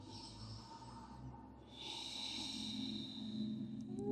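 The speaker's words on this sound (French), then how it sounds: "Vous prenez encore une longue respiration." One long, slow breath taken during a yoga flow session, a faint airy inhale and exhale in a quiet room.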